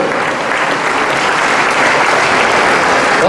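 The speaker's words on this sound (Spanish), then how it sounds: "Regálenme un aplauso al Maizal." Loud, dense applause from a church parish gathering for the Maizal zone, a continuous wash of many hands clapping close by, steady throughout with no voices.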